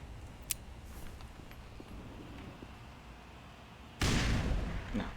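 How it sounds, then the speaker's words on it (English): A frag grenade goes off in the video game Black Mesa: after a quiet stretch with faint game sounds and a small click, a sudden loud blast rings out with a rumbling tail. "I can destroy this with a grenade."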